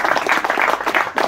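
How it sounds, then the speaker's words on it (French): Audience applause at the 2023 Saint Lambert celebration in Vence, a steady dense wash of many hands clapping together, fairly close and loud, without a break for the whole short stretch. "On peut applaudir aussi."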